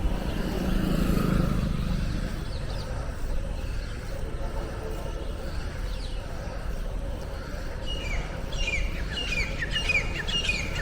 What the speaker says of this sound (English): I think you can hear birds chirping. That was a partridge